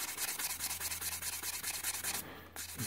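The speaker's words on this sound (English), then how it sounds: "So we get the wet and dry now, and it's important we do it across the piston, not along the piston" Wet and dry sandpaper is worked across a brake caliper piston from a Ford Courier front caliper, a faint, close, fast rhythmic scratching of repeated short strokes with a brief pause near the end.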